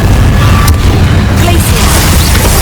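Incendio fire spell cast in Hogwarts Legacy, a loud whooshing burst of flame within a dense, continuous roar of combat noise, with a sharp crack near the start.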